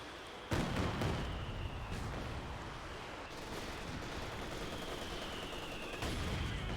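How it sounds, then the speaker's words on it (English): Katyusha rocket artillery fire in a 4v4 match of the video game Company of Heroes 2, a sharp blast followed by a sustained roaring rumble of launches and impacts under a steady battlefield din, with no voices. "We have Katyusha fire coming in now."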